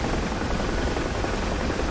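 A helicopter in a festive rescue-mission video game gives off a steady, dense whooshing rotor and engine roar, loud and unbroken throughout with no talking.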